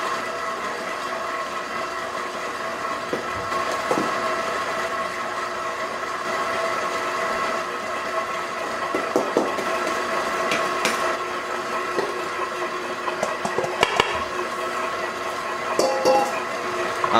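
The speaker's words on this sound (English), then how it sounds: "After a couple of minutes that the machine is working, we can add the rest of the flour." A bread machine kneads simple bread dough while flour is added, giving a continuous motor whir and churning with scattered knocks and thumps throughout, fairly loud and close.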